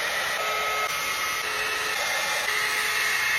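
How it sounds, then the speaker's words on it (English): A Mermade blow dry brush drying hair, a loud, steady whooshing motor hiss held continuously close up, with slight shifts as the brush moves. "I'm going to use the Mermade blow dry brush."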